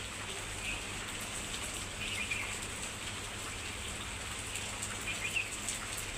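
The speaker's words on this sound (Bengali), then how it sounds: "সারা রাত বৃষ্টি পড়ছে দেখেন" Steady rain falls continuously, a dense hiss of drops on surfaces, with faint bird calls now and then in the background.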